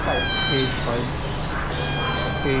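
Persian cat meowing inside a busy pet shop, several short mewing calls spread through the clip over a dense bed of people talking and shop chatter.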